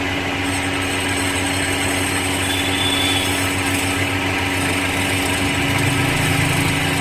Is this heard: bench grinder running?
yes